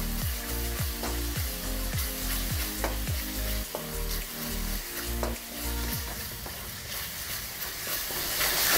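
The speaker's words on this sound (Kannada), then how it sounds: "ಜೊತೆಗೆ 1 ಸ್ಪೂನಷ್ಟು ಶುಂಠಿ ಬೆಳ್ಳಿ ಪೇಸ್ಟ್ ಕೂಡ ಹಾಕ್ಕೊಂಡು ಚೆನ್ನಾಗಿ ಹುರ್ಕೋಬೇಕು" Garam masala and ginger-garlic paste fry in a pan for a cauliflower gravy, a loud continuous sizzle punctuated by rhythmic scraping strokes of a stirring spoon against the pan, with no talk.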